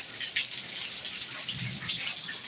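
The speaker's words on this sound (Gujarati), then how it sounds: "વરસાદ આવે છે" Rain falls on a soaked parking area as a steady, even hiss with scattered drip taps, moderately close and with no voices.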